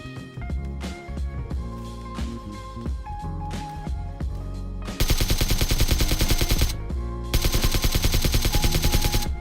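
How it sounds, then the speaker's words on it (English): Rapid bursts of automatic gunfire in PUBG Mobile, starting as scattered shots and swelling into dense, rattling volleys that go on for several seconds. "run towards gunshots, which I hear off in the north"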